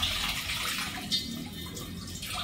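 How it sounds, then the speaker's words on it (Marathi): Water drains off homemade ghee made from milk cream, a quiet, steady trickling and splashing flow that continues without a break. "पाणी पण असं सरसर निघून जाते,"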